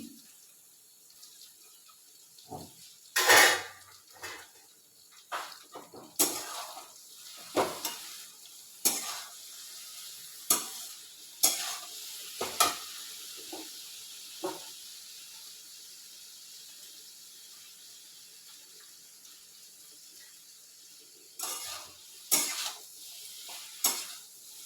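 Okra stir-fry (vendakka mezhukkupuratti) sizzles in a pan, with a low background hiss and a long series of intermittent stirring scrapes and bursts, fairly quiet overall.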